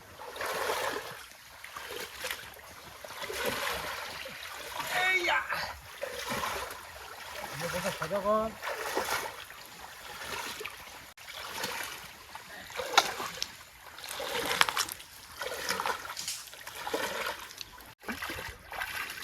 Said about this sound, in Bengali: আর এখন নৌকাটা নিয়ে যাচ্ছি গোড়ার দিকে